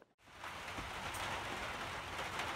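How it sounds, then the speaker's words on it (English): Heavy rainstorm pounding on a camper van, a dense, loud, continuous roar of rain on the roof that starts after a brief quiet moment and holds steady without any talk. "here we are again in another really bad rainstorm"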